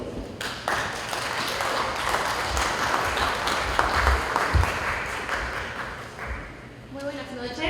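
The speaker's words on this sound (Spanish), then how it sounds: "Le brindamos el aplauso." An audience claps for the moderator at an evening panel discussion held by a Peruvian association. Dense, moderately loud applause runs throughout, with a few heavier thuds, and fades slightly toward the end as a voice begins.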